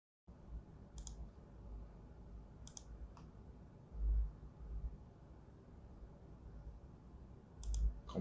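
A computer mouse clicks a few times while working in Revit software: sparse, quiet, sharp clicks, some in quick pairs, over soft background noise.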